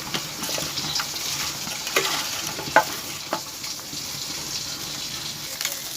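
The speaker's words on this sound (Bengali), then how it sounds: "এখানে আমার মাছ ভাজা হয়ে গেছে," Fish frying in a pan gives off a continuous soft sizzle, with light scraping and stirring knocks and one sharper clink, fairly close and without voices.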